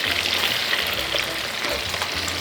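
Diced tomatoes and onion stir-fry in melted butter, a close, busy crackling sizzle with light stirring that runs steadily through the short stretch, no speech.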